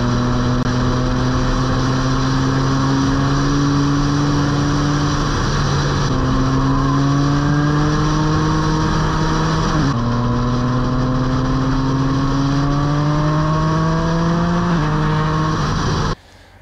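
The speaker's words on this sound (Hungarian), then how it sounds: "Amióta lecseréltem a kipufogó rendszert, nagyon durva hangja lett a motornak." A Yamaha MT-09 motorcycle with an aftermarket exhaust roars steadily close by, its pitch stepping up through gear shifts with a raspy exhaust note throughout.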